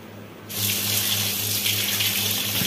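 Raw chicken rinsed under running tap water in a basket at a kitchen sink: a steady, close splashing gush that starts abruptly and continues without a break, with no voices.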